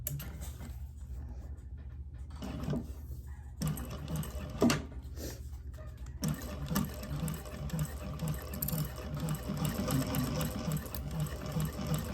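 A sewing machine stitches a handbag, starting with short bursts, then settling into a steady, close, rhythmic running hum and clatter.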